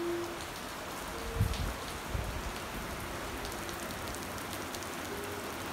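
Steady rain pours down, a dense even patter on surfaces all around, with a couple of low thumps partway through.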